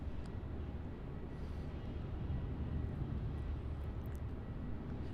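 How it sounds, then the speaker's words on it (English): A Jetstar A320-200 airliner lines up on runway 34 at Melbourne Airport, giving a steady low engine rumble heard from a distance across the whole stretch, with no voices. "sparing no time is the Jetstar A320-200, which is lining up on runway 34 for its departure"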